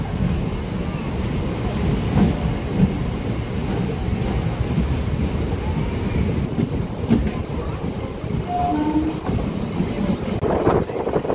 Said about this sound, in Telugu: అండ్ మన ట్రైన్ అయితే బయలుదేరుతుంది.